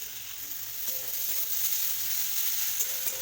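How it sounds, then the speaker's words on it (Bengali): Thankuni leaves cooking in a pan with oil saved from frying fish: a steady close sizzle with soft crackles and faint stirring, no voices present. "এরপর এর মধ্যে ভেজে রাখা মাছের তেলটা দিয়ে দেব।"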